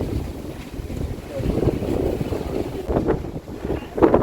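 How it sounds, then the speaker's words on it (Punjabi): Strong wind gusts outdoors, buffeting the microphone in low rumbling bursts that rise and fall over a few seconds. "ਕਿੰਨੀ ਹਵਾ ਚੱਲ ਰਹੀ ਹੈ"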